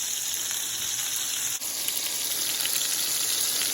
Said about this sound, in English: Once I get both sides seared, I reduce my heat, put it on medium low